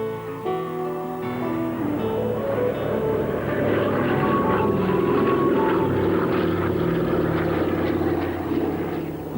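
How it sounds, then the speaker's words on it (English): A cargo plane more than 40 years old, adapted for carrying fertilizer over hilly grazing country near New Zealand's East Cape, drones steadily with a loud, continuous engine roar throughout. "A veteran cargo plane, over 40 years old, has been adapted to take the extra large loads needed."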